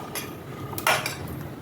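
A spoon or fork clinks against a bowl while beaten egg is stirred by hand, with a few light taps and one louder scraping clatter near the middle, close and fairly quiet, with no voices.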